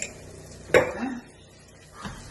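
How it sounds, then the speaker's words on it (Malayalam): A spoon scrapes and clatters in a pan of chicken roast masala with Kashmiri chilli powder, one sharp clank then a short scraping stir, with a softer knock near the end. "ഇത് നന്നായി ഇളക്കി വയ്ക്കുക"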